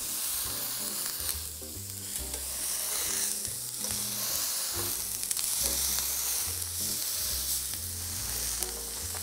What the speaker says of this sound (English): we are going to put it on a skillet that's fairly hot